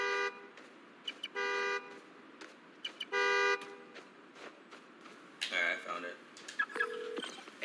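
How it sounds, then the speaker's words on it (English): Car horn honking in the Spider-Man: Miles Morales video game, several loud short toots with pauses between them, mixed with city traffic noise and a voice talking. "Find the horn. Find the car. Find the horn."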